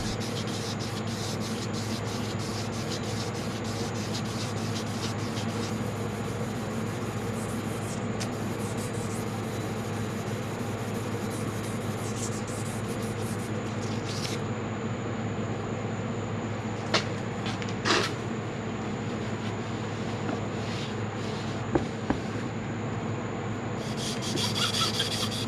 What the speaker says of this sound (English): This shoestring is a good way to apply even pressure all the way around the journal as we rotate this sandpaper